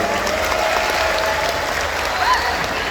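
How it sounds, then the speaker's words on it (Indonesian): An audience at a cultural gathering applauds the performing artists, a dense, steady wash of many hands clapping at once, sustained and fairly loud throughout. "kita kasih tepuk tangan kepada para seniman yang hebat-hebat tadi itu"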